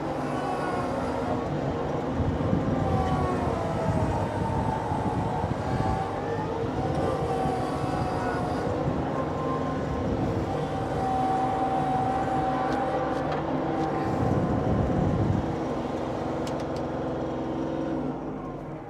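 Kioti CK2610SE HST cab tractor with loader, in four-wheel drive, steadily driving and turning, its engine a continuous close mechanical drone with slight swells in pitch and no talk over it.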